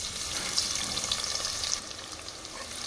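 Onions frying in hot oil with stone flower spice for a mutton masala gravy curry, giving a steady, close, continuous sizzle with faint stirring, and no voices.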